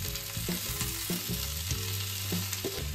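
Tomatoes sizzle steadily in hot oil with whole garam masala spices (cinnamon, mace, stone flower, cloves, black pepper), a close, continuous frying hiss with soft stirring, for a Malvani-style mutton curry.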